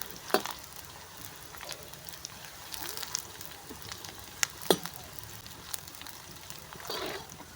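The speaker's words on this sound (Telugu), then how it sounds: "ఆనియన్స్ బాగా ఫ్రై అవ్వాలండి ఇవి బాగా గోల్డ్ కలర్లోకి వచ్చేంత వరకు మనము ఆనియన్స్ని వేపుకోవాలి" Onions fry in a pan over a wood fire with a soft, steady sizzle. Scattered pops, crackles and an occasional light stir sound close by but quiet.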